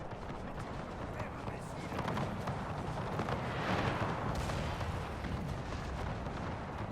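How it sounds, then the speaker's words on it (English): Artillery fire in Napoleon: Total War, Era Mod, with Prussian troops on a hill: dense, continuous booming and rumbling battle noise that swells toward the middle and fills the whole stretch. "The artillery fire, plus now the musket fire"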